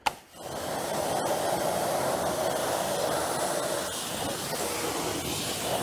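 Water spray rinses Iron Buster and Brake Buster wheel cleaner off the inside of a car wheel barrel, a loud, steady hiss that runs without a break for several seconds, with no talking.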